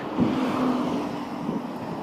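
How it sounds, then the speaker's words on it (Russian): Steady broadband road rumble with a low engine drone, like traffic passing nearby a cyclist in Kyushu, Japan, continuous throughout with no voices. "ну трафик тут, конечно, адский"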